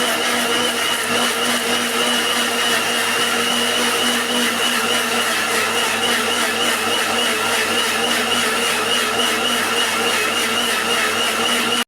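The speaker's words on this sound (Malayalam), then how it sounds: "ഇനി നല്ല മൂടി വെച്ച് മിക്സിയിൽ നന്നായിട്ട് തന്നെ ഇതൊന്ന് അരച്ചെടുത്തിട്ട് വരാം." A kitchen mixer grinder purees banana, milk and honey for a cake, running as a loud, steady whir for about twelve seconds with no talking.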